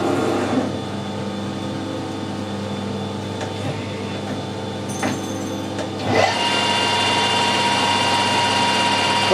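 A lathe spins at 1000 RPM while machining a carrot, a steady close motor hum and whine that holds throughout, then swells slightly louder with added high-pitched hiss toward the end.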